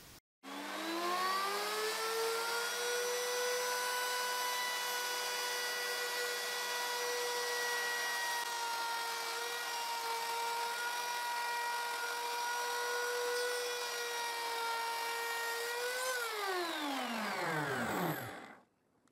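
Wood router machining tongue joints along wooden flooring planks, guided by a fence: a loud, steady high-pitched motor whine sustained for about sixteen seconds before spinning down, with no talking.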